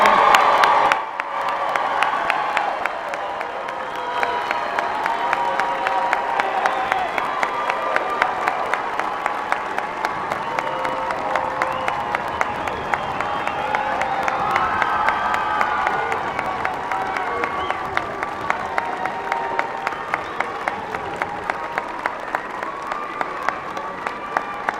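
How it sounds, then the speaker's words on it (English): A large commencement crowd gives sustained applause for graduates at a university ceremony, dense clapping with cheers and whoops holding steady for the whole stretch, broad and reverberant as if in a big hall. "would you give your graduates one more round of applause?"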